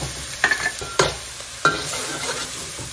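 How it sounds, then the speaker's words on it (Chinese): Minced garlic and chili stir-fried with pork in lard: a continuous soft sizzle with several clattering spatula scrapes against the pan, close up, and no voices. "接着就把它翻拌在一起"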